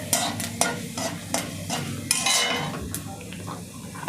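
Spices including mustard seeds, urad dal and roasted gram sizzle in hot oil on a low flame, with a soft frying hiss and sharp spoon clacks against the pan, close and fairly quiet.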